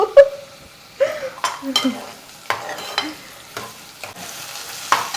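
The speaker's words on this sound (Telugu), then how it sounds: "ఉల్లిపాయలు అయితే బాగా వేగిపోయింది" Onions frying in a pan for an Andhra-style korameenu fish curry, a soft sizzle broken by several sharp stirring scrapes and clinks of a spatula against the pan, close up.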